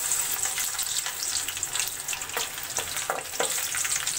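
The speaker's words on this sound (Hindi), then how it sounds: "तेल अच्छे से गर्म हो चुका है, अब इसमें सबसे पहले डाल देंगे बारीक कटा हुआ लहसुन।" Finely chopped garlic fries in hot oil in a kadhai with a steady, close crackling sizzle. Occasional soft stirring scrapes sound over it, and no one speaks.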